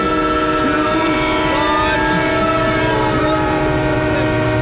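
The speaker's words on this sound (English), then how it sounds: "I'm at the train station" A train rumbles through a station with a sustained, loud horn blaring over continuous rail noise, close and unbroken throughout.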